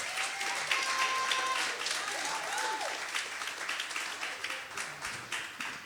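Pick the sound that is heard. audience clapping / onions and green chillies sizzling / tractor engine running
audience clapping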